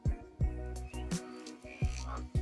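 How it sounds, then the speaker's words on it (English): A recorded humpback whale call plays from an iPhone speaker through Siri: drawn-out harmonic moans and sweeping tones that rise and fall, with a few separate swells and short pauses. "Here's a humpback whale."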